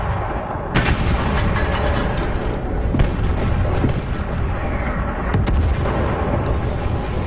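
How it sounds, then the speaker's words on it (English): Artillery shells fire in a World of Tanks-style battle from an FV304 self-propelled gun, deep booms and bursts recurring over a dense, loud rumble of gunfire and explosions, with no talking. "I'm kind of hoping maybe I can find a way to bomb some shells in there."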